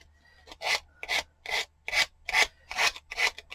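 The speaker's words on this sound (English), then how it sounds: "when you're trying to get into the little nooks and crannies that the nail file just works a little easier" A nail file rasps against a craft gnome ornament in eight quick, even back-and-forth strokes, close and crisp with short pauses between.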